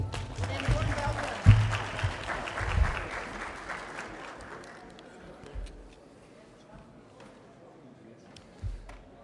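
Audience applause at a business forum in a hotel hall, a dense burst of clapping that fades after a few seconds into quieter room noise, with a few low thumps from handling nearby.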